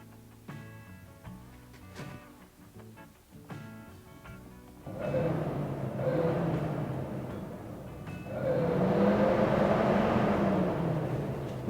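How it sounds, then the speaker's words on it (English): BMW E36 electric radiator fan, engaged by hand through its relay, spins up partway through with a steady rising whir and broadband rush that swells and holds, following a quieter stretch of clicks and tonal hum. "By manually connecting the relay, the fan starts spinning."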